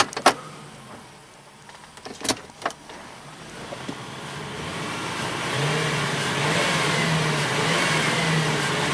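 A Lincoln Town Car engine revs after a few sharp clicks, its rumble swelling and holding at a fairly low level, with no voices.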